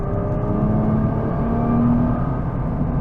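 A 2023 Nissan GT-R at speed on the interstate at night, its engine giving a loud, steady low rumble and whir from inside the cabin, with no voices.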